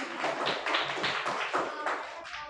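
A group of children clap together during a classroom quiz game, a close, steady burst of quick overlapping claps that keeps up through the whole stretch with no talking.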